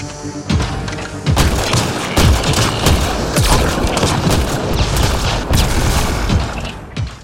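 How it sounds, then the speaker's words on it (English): Repeated grenade explosions in Mass Effect Andromeda boom loudly and continuously, heavy blasts piling over each other with crackling debris and combat noise. "There comes a time when all you need is endless grenades."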